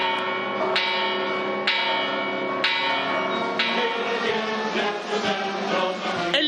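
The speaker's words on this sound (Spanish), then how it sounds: "Enseguida, repicó 60 veces la campana de Dolores." The Dolores bell rings out at a plaza during an Independence night celebration, struck again and again at a steady pace of roughly one blow per second, each stroke overlapping the long, shimmering ring of the one before.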